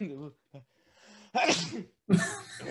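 A person sneezes twice in quick succession, loud and close, after a few quiet breathy vocal sounds.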